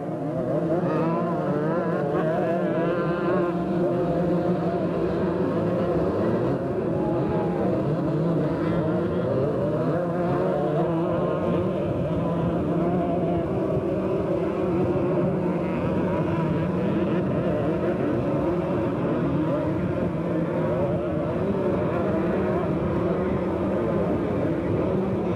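Several 125cc motocross motorcycles, one of them an Italian Gilera, race past in a steady, loud engine drone that rises and falls for the whole stretch, mixed with crowd and wind noise and no talk.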